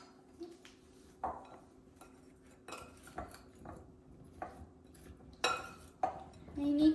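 Potatoes being tossed with oil in a bowl, heard as scattered clinks and scrapes of a utensil against the bowl, with a louder knock or two, close and fairly quiet.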